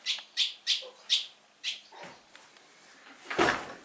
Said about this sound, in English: these birds are scaring the girls to death